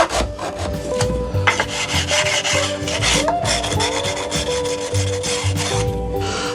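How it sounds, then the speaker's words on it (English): A smooth cut file rasps repeatedly across guitar fret ends on a Telecaster neck, a close, loud run of rhythmic back-and-forth strokes with no talking. "It cuts quicker, it cuts cleaner, it cuts smoother. This is a smooth cut file."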